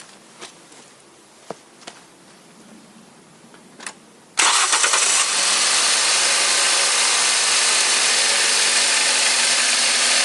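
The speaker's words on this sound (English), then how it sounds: "And I start engine next." A Toyota Corolla engine cranks and catches after a few quiet clicks, then settles into a loud, steady idle that runs close and continuous to the end, with no talk over it.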